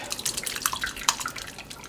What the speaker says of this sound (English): Seeds, skins, and all of it go right into the strainers, and then we just let them drip.